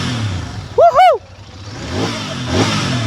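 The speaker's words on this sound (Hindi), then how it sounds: "इसकी एग्जॉस्ट साउंड चेक करो आप लोग" A Continental GT650 motorcycle exhaust gives a sharp, brief rev close by that rises and falls quickly, then settles into a low rumble with lighter throttle blips after it.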